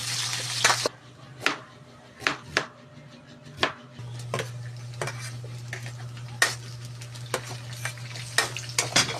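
Garlic and onion sautéing in a pan with chilli, a steady sizzle under repeated sharp spatula clanks and scrapes against the pan, close and lively, a low hum underneath, no talking.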